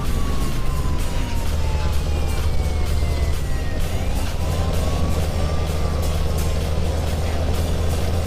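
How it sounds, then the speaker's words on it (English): A Scania truck with a custom V8 engine sound in Euro Truck Simulator 2 gives off a deep steady rumble at a constant drone. A faint wavering tone glides over it for the whole stretch. "I've got some custom V8 sounds loaded into the Scania, so this should sound really good without being too over the top"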